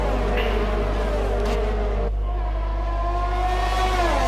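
F1 2020 video game racing car engine at the Spanish Grand Prix whines continuously at high revs, shifting pitch through gear changes and staying loud and close with no talk.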